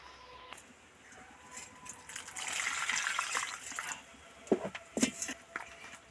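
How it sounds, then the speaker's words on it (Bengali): Koi fish being rinsed by hand in a pan of warm water in a kitchen, with soft splashing and sloshing that swells in the middle and ends in a few sharper splashes, close and moderately loud. "কড়াতে উষম গরম জল করেছি কই মাছটা একটু এক মিনিটের মতো ধুয়ে নেব"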